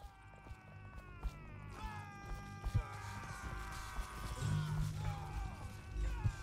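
A cat meows in the video game Dishonored, several drawn-out rising cries over game ambience, with faint thuds and a voice talking quietly underneath.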